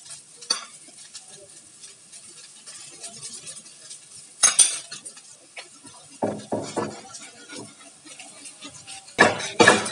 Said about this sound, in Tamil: இப்போ நம்ம தோசை வச்சுருவோம்